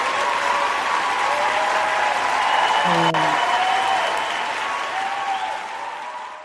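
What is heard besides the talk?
round of applause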